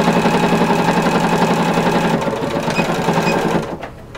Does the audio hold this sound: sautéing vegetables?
no